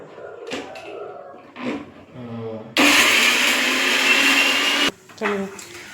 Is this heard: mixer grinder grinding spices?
yes